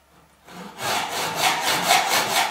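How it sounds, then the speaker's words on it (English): A stainless steel hacksaw blade cuts through a stainless steel shower curtain rail tube, starting after a brief quiet moment and then running as steady back-and-forth rasping strokes, close and fairly loud with no talking. "we're going to cut the tube"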